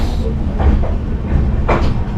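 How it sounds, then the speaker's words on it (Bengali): A Sealdah–Varanasi Amrit Bharat Express train leaving Patna Junction rumbles along the rails with a heavy low drone and periodic rattling clatter from the carriages, close and steady. "এই মুহূর্তে ট্রেন ছাড়লো পাটনা জাংশন থেকে।"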